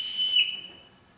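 A single sharp whistle blast summoning someone in a film scene, loud and clear, fading away within about a second.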